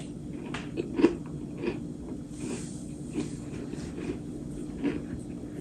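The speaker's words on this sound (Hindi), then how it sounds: "ये देखें आवाज़ किस तरह आती है खाते हुए, बिल्कुल रस, बाजारी रस की तरह" Someone bites into homemade cake rusk, giving a few crisp crunches and chewing sounds close to the mouth over a steady background hum, with no talk.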